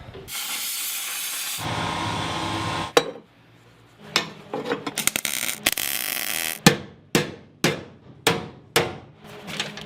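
Metal part being whacked off a Jeep truck rock crawler build, a long hissing blast first, then a string of sharp metallic hammer strikes in an uneven rhythm, loud and close in a workshop.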